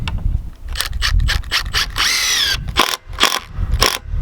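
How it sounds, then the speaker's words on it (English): Power screwdriver driving a screw back into a corner of a barn-sized structure, a whirring burst about half a second long, preceded and followed by close clicking and ratcheting handling noises. "let's put our screw back in"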